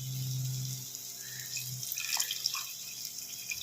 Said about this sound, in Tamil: இதில் காய்ச்சின பாலை வந்து இதில் சேர்த்துக்கிறேன்